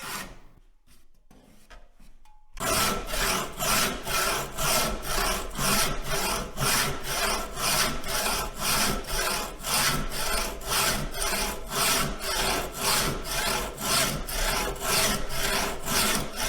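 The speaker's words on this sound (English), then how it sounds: "when you're actually resawing the log in half, the blade will tend to stay in that kerf" A hand saw resawing a cedar log in half, a loud, steady back-and-forth rhythm of rasping strokes close up, starting after a couple of seconds of near quiet and continuing alone without pause.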